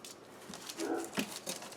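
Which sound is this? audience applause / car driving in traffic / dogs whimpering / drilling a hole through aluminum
dogs whimpering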